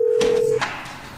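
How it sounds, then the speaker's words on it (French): A telephone gives a single steady electronic tone lasting about half a second, then cuts off, followed by a brief clicky burst and quiet room noise. "Jeff, tu entends le téléphone et il vient vers moi"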